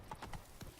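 Horse hooves clip-clop from Geralt's horse Roach in The Witcher 3: Blood and Wine, four faint quick hoofbeats in a brief, quiet burst.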